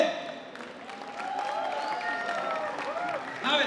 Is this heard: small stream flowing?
no